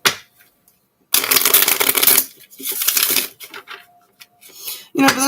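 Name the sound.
shuffling playing cards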